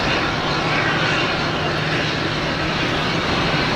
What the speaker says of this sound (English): We got this JetBlue here in front of us making all the racket.